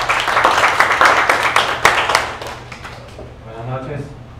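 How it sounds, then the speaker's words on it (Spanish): Audience applause at a talk on Venezuela's crisis: a dense, loud burst of clapping with sharp individual claps standing out, thinning and fading toward the end as a voice begins. "Un aplauso para él"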